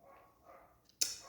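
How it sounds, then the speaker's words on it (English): A single short dog bark rings out near the end, after a quiet stretch of faint background murmur. "I don't know if you can hear that barking."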